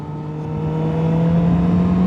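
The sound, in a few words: Suzuki GSX-S750Z inline-four motorcycle engine revving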